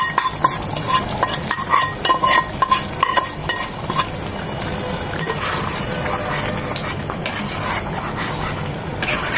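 Egg and curry leaf tempering being stirred and fried together in a pan, with steady sizzling under repeated scraping and clinking of a utensil against the pan, close up and continuous.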